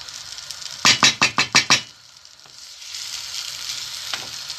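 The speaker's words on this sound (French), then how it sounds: "Je vais mélanger en faisant très attention." Fish pilau with coconut milk stirred carefully in a pot: a quick run of about six wet scraping strokes close by, followed by a softer steady simmer with no talking.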